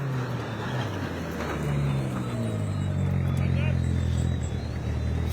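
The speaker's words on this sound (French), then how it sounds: "Oh là, et on a les 2 voitures qui arrivent d'un coup." Two rally cars, one of them a Peugeot 306, pull up together at the stop of the third special stage of the Rallye des Grands Fonds, their engines droning steadily close by and gradually swelling in loudness.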